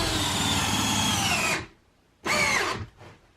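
A power drill fitted with a drill-bit-to-socket adapter drives fasteners into wood while building a wall-mounted workbench, a loud continuous whine for about a second and a half, a pause, then a second shorter burst and a faint tail.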